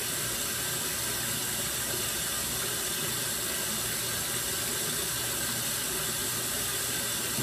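Water runs steadily from a sink faucet while hair is washed, a loud, constant rushing stream with no break and no talking.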